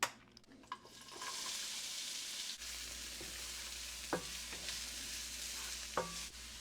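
Vegetables, green onions among them, sauteing in avocado oil in a pan for white chicken chili, a steady broadband sizzle with occasional stirring clatters, continuous and close with no talking.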